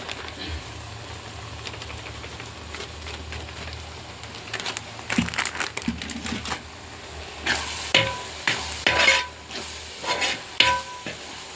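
Chicken coated in chicken masala sizzles and fries in a pan for a chicken curry, with soft frying hiss building into a series of louder scraping, clattering stirs in the latter half.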